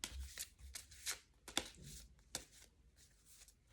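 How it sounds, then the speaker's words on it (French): A deck of Egyptian gods oracle cards is shuffled by hand, giving a close, quiet series of crisp riffling and slapping bursts in an uneven rhythm, with no speech. "nous allons utiliser l'oracle des dieux égyptiens. Donc, on va mélanger comme ceci."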